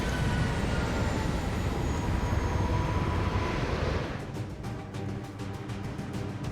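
A train in the XCOM 2 video game rumbles in a loud, steady roar, then eases slightly into a lower rolling drone with faint rhythmic clicking near the end.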